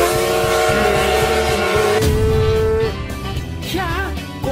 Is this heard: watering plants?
no